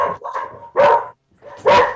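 Dogs barking nearby in a few loud, sharp barks with brief pauses between them, heard alone without talk.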